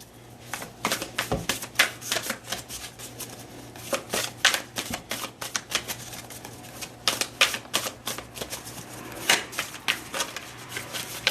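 Tarot cards being shuffled, heard as a rapid series of crisp riffling bursts and soft flutters that come in repeated clusters over about eleven seconds, close up and without talk.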